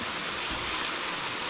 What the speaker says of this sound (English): Juicy, what do you think about this waterfall?